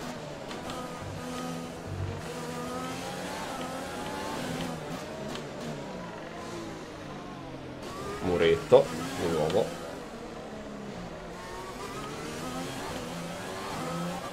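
A Formula 1 race car engine in the F1 2020 video game drones and revs continuously at high pitch, rising and falling with gear changes, under someone talking throughout.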